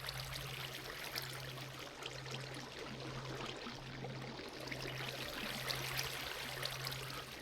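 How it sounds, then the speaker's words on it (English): Flowing water in the video game TerraFirmaCraft, a Minecraft mod, makes a steady, faint, continuous trickling stream sound with no voices, alongside a low constant hum. "TerraFirmaCraft water"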